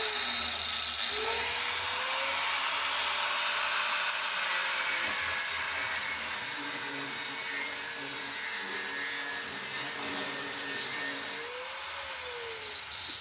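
A power tool cuts through welded metal and throws off sparks, making a steady, loud, hissing whine with a faint pitched tone that runs without a break. No one speaks.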